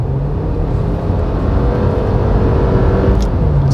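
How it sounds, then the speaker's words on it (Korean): A car engine drones steadily and builds as the vehicle accelerates, heard from inside with a constant low rumble and road noise, no voices. "과속할 때 이 엔진 사운드 이렇게 잘 다듬어졌다 라기보다는 있는 그대로의 소리를 내지르는 듯한 그런 느낌입니다"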